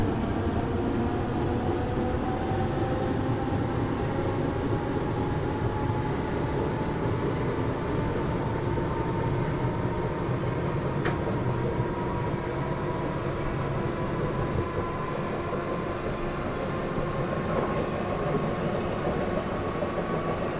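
A Class 313 electric train runs steadily in the OpenBVE simulator on the North London Line, giving a continuous rumbling drone with a faint rising motor whine.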